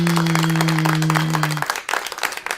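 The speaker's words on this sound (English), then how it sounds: "if it wasn't for y'all clapping" Applause and clapping from a crowd fills the opening, dense and loud over a steady low hum that cuts off partway, then thins into scattered claps.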